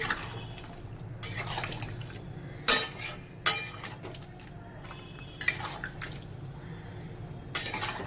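Fried lentil fritters, eggplant and bitter gourd mixed together in a pot for shukto, heard as quiet wet stirring with a few sharp clanks of a spoon against metal.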